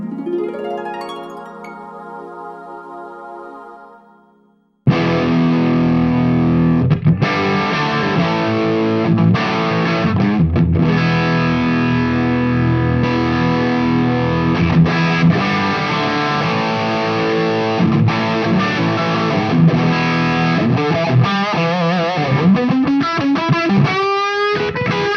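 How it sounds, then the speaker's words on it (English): An electric guitar runs through a distorted amp voiced like a Rat-style circuit, opening with a fading chord, then driving into loud, thick crunchy riffs and chords that continue steadily to the end. "Here's just the distorted amp."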